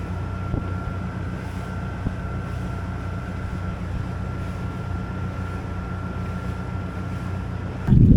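A small dinghy motorboat runs along a little river, its outboard engine giving a steady low drone with a faint constant whine above it, joined by wind buffeting the microphone, with a sharp gust at the very end.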